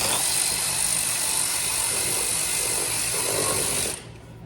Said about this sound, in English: let's start with a 10 mil here, get this air box off of here.